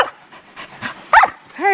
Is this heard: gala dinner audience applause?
no